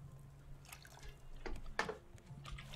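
Water container being refilled in the survival game Raft, a few soft splashes and drips, faint and close, over a quiet low hum.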